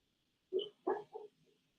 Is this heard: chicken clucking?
no